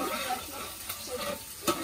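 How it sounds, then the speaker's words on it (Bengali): Fish frying on a gas stove in a home kitchen, a soft continuous sizzle with faint crackles and a couple of small bumps near the end, quiet and close. "এদিকে মাছ ভাজা বসিয়ে দিয়েছি, মাছ ভাজা হচ্ছে।"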